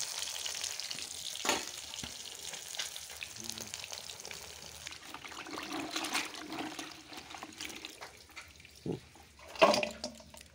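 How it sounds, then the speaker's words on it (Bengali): Fish sizzle and spatter as they fry in a pan. A steady hiss of frying runs close and fairly quiet, with occasional knocks and clatters, and there is no talking. "এই যে এখানে মাছগুলো সব ভেজে নিচ্ছি।"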